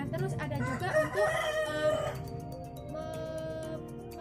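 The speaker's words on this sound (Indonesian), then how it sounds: "Sini saya akan menjelaskan tentang suara kokokan ayam jantan." A rooster crows one full cock-a-doodle-doo, loud and close, against a busy background of other animal and farmyard noise, with a few fainter calls continuing after the main crow.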